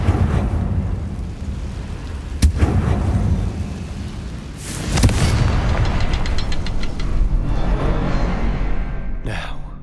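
Confringo blasting spell explosions in Hogwarts Legacy: several sharp booming blasts, one near the start and a bigger one midway, set against a steady rumbling game background, with a final crackling burst at the end.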